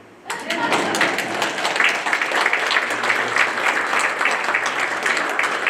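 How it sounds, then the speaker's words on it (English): Applause from an audience at a civil rights talk in Lynchburg begins abruptly after a brief quiet moment, then holds as steady, dense clapping, fairly loud and close, to the end. "You can clap for me."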